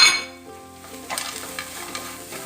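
A spoon stirring roasted cashews and raisins into a cooked banana mixture in a pan, giving a soft sizzle with a few light scraping strokes, close and fairly quiet, no talking.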